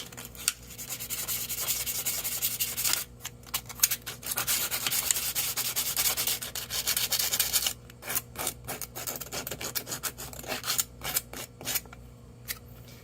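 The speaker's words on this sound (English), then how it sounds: "So sanding it like that will take off the burr, the sharp edge from the razor blade cut." Sanding the razor-cut edge of a plastic plant label to remove the burr, a close, steady rasping rub with short pauses and choppier strokes toward the end.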